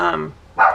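Two quick dog barks, close by, a brief pause between them, with a little background murmur.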